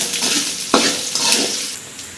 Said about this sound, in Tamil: இப்போ இதை நல்லா ஒரு வதக்கிக்கலாங்க.